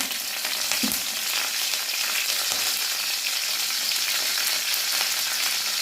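Dried red chillies and curry leaves sputter in hot oil after mustard seeds, making a dense, continuous crackling sizzle with occasional louder pops throughout.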